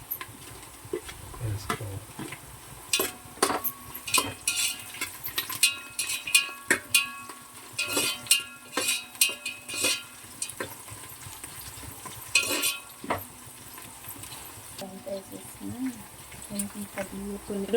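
Garlic cloves and green chilies sizzling in hot oil for a mutton curry, a steady crackle with frequent spoon stirring and scraping at the pan, a voice speaking over parts of it.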